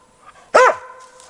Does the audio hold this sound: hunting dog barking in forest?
yes